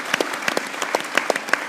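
A studio audience applauds steadily, with a dense patter of many hands clapping at moderate volume and no talking over it.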